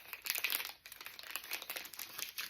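A decorative paper sticker is peeled from its backing and pressed onto a window-envelope page hugger for a junk journal, giving close, continuous crinkling and crackling with small bursts, no talking.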